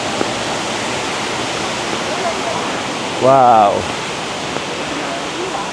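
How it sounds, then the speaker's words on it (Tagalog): Rushing waterfall in Wulai, Taiwan, a steady close broadband roar of falling water throughout, with a brief exclaimed voice partway through. "Ito yung tubig na nanggagaling sa waterfalls."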